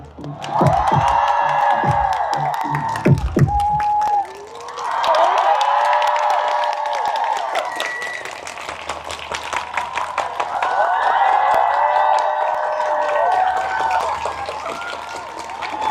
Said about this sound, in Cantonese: 再次俾熱烈嘅掌聲